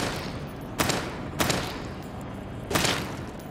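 Gunfire in the survival horror video game Daymare 1998, with three separate sharp shots over a low, steady game ambience and no speech.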